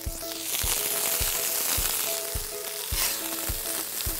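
Onion frying in a pan, a steady close sizzle with crackling throughout and a few soft rhythmic knocks, no talking.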